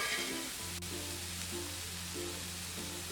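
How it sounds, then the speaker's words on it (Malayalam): A masala mixture for bread idli sautés in a pan with a soft, steady sizzle, fairly quiet, with a faint background hum running beneath it. "ജസ്റ്റ് ഒന്ന് ഒരു 2 മിനിറ്റ് ഒന്ന് വഴറ്റിയെടുത്താൽ മതിയാവും."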